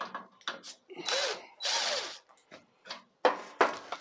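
A power tool whirs in short bursts, with two longer runs in the middle, while driving bolts in on a STIHL TS400 disc cutter during servicing, with clicks and handling noises between the bursts.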